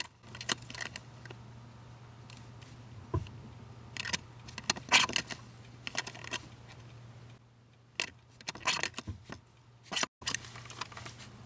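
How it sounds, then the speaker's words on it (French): Paper guillotine trimmer slicing through card stock while trimming an Easter box panel with a border, a series of close, crisp cutting strokes and clacks separated by short pauses, with no talking. "Ensuite, je prends la guillotine. Je viens couper tout autour en laissant une belle bordure."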